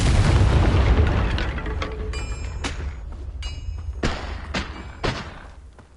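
A Confringo spell explosion in Hogwarts Legacy, a heavy booming blast that rumbles and fades, followed by a few smaller thuds and crackles over several seconds.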